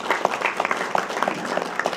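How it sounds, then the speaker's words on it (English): Applause from the audience at a high school football news conference, a steady patter of many hands clapping at moderate loudness for about two seconds. "Give them a round of applause."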